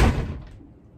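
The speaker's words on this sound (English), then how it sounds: "I'll close the door real fast." A single heavy door thud close by, a sharp knock-like impact that decays quickly into a brief low rumble.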